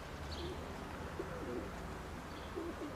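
Pigeons coo softly from a rooftop ridge, low repeated calls against a steady outdoor background hiss, with no voices.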